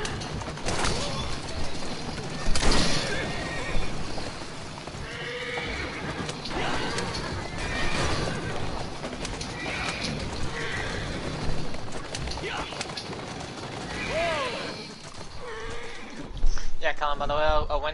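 A horse in a video game neighs repeatedly over steady galloping hoofbeats, loud and close, amid busy game noise and someone talking.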